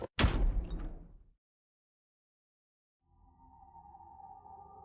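A door opening in the Zero Escape: Virtue's Last Reward video game: a loud mechanical burst with a sharp onset fades out after about a second, then a short silence, and a sustained low tonal hum rises and continues to the end.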